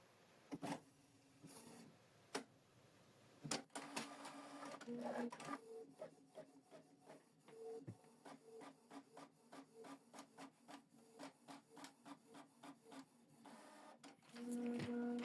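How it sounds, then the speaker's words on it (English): A Canon Pixma TR4755i inkjet printer whirs and clicks close by printing a test page, then settles into a steady run of rapid mechanical strokes as the print head shuttles back and forth. "So now we're going to print a test page to confirm that the printer is connected."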